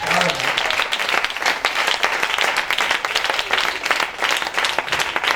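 Congregation at a Sunday church service applauding steadily and loudly, dense continuous clapping filling the room with some voices mixed in.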